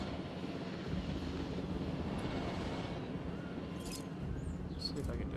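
Steady engine and rotor drone of a helicopter in the video game Jurassic World Evolution, continuous and fairly loud throughout, with faint speech-like sounds mixed in.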